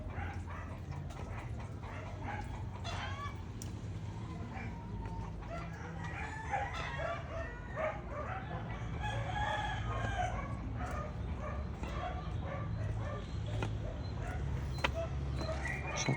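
Chickens cluck and a rooster crows repeatedly outdoors, with a dog barking now and then amid steady farmyard background noise.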